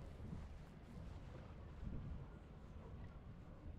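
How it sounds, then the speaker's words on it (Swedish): Steady wind gusting around a sailboat in a harbour, a continuous low rumble with buffeting against the microphone and slight swells, no voices. "Det har liksom lite vind att ta hänsyn till också."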